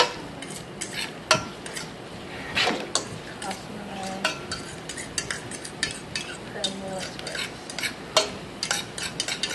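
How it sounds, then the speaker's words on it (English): Onions frying in a pan with garlic, giving a soft steady sizzle broken by frequent sharp clinks and scrapes of a utensil stirring against the cookware, close and fairly quiet, with no talk. "I love the way onions smell when they're cooking."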